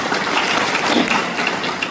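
Dense, steady clapping from an audience at a talk fills the whole stretch, loud and sustained without pauses or voices.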